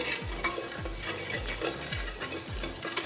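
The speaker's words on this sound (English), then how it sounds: "as you can see, the garlic's starting to, get cooked a little bit" Curry powder and garlic frying in olive oil for Caribbean curry chicken, a continuous close sizzle with regular spoon-scraping strokes across the pan roughly every half second.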